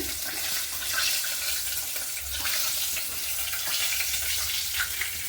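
Chicken frying in hot oil, cooked as an iftar treat, gives a steady, close bubbling sizzle with crackling spatters throughout and no voices.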